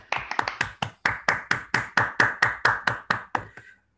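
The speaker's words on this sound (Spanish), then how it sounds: "un aplauso lo primero, aunque sea así" Applause at a remote tribute during a mathematics talk: a sparse run of about fifteen separate hand claps, evenly spaced and fairly loud, speeding slightly at the start and stopping abruptly, with no voices.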